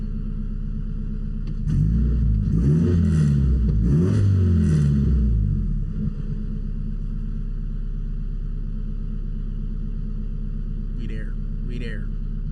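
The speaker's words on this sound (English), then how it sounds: "Give y'all a little rev." A turbocharged EK Honda Civic engine revs once, the pitch climbing and falling over a few seconds before settling back to a steady idle rumble that continues alone.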